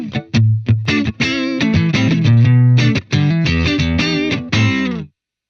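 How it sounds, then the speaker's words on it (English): Electric guitar played clean through a Vibroverb amp model with reverb off, short picked notes and chords ringing out clearly, a brief phrase ending in silence. "you're just going to hear the Vibroverb model clean"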